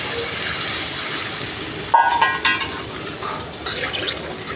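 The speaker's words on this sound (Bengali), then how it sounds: "এবার পরিমাণ মতো জল দিয়ে দেবো" Water poured into a pan of spiced, sautéed rohu fish curry base, a steady hiss of cooking giving way to a sudden splashing pour and bubbling sizzle, close and fairly loud.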